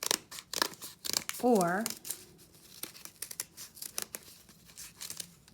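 Scissors cut out paper flower shapes in several short snips and crinkles, close and moderately loud, with a person talking over them.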